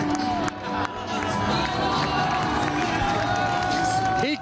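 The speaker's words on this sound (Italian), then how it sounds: "Il capitano Matteo Imbrò che riceve subito l'applauso e l'abbraccio dei tifosi" Basketball fans in a dense crowd cheer and applaud captain Matteo Imbrò as Treviso Basket celebrates promotion to Serie A, a steady loud roar of voices and clapping broken by a couple of sharp bangs.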